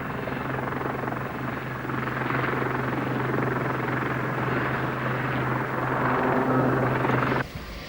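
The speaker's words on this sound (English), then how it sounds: "the giant helicopter is working with a Mark 166 magnetic influence sledge" A giant military helicopter towing a Mark 166 magnetic influence minesweeping sledge roars with a steady, loud rotor and engine drone that holds throughout before dropping off abruptly at the end.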